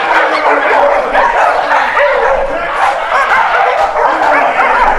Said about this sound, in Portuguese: Vim aqui te avisar que os cachorros estão soltos no quintal.